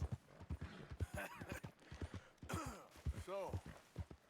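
Horse hooves clip-clop at a steady, rhythmic pace in the Red Dead Redemption 2 video game, with a brief whinny and people talking over the hoofbeats.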